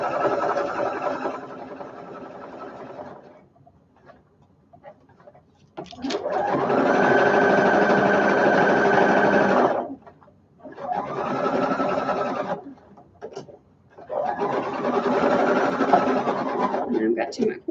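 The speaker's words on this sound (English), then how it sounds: "And then we can continue sewing all the way around." A sewing machine stitches around the edge of a homemade baby taggie blanket in three long, steady whirring runs separated by brief pauses, close and loud.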